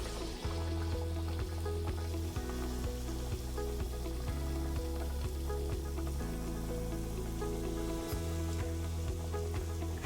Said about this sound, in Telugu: ఇలాగే గారెలు వేసుకో.